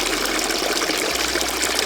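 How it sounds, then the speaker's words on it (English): Natural spring water runs steadily from the nine-headed dragon fountain at Hakone Shrine in Japan, a continuous broadband splashing and gushing that stays close and even throughout, with no voices. "You can actually get the water from the shrine and drink out of the natural fountain."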